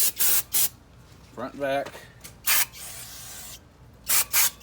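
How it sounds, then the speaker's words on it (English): Brake cleaner sprays in short bursts onto new brake rotors of a Honda Element during a lower control arm job, several close hissing blasts with someone briefly talking between them. "So you need to get some parts cleaner, brake cleaner. And you just want to spray them down,"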